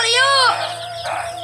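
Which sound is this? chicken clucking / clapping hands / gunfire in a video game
chicken clucking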